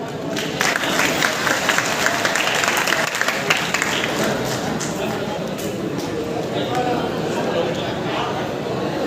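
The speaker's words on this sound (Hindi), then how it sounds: "जरूर ताली बजाइएगा" Audience at a Bareth community student award ceremony in Baradwar applauding a child being honoured, steady dense clapping throughout under loud hall ambience with voices mixed in.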